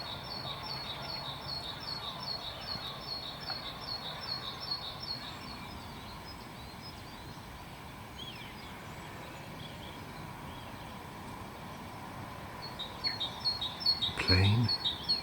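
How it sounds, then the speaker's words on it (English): Birds sing at dawn on a quiet Easter Sunday morning, with repeated chirps and calls carrying from a moderate distance over a low outdoor hush, and a brief louder disturbance near the end. "All I can hear is the birds."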